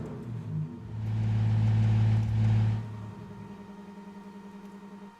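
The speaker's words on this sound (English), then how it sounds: "Did I just stall the car?" A car engine in the racing game RENNSPORT drones and revs loudly for a few seconds, then drops off abruptly as it stalls, leaving a quieter hum.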